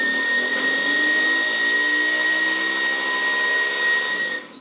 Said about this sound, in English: I think that squealing might be the blender.